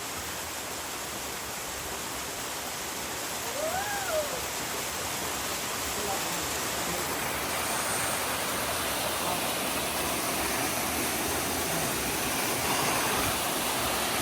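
The upper tier of a waterfall at Sang Khayuan near Kranuan pours in a constant broadband roar, loud and close, with a brief faint voice-like sound partway through.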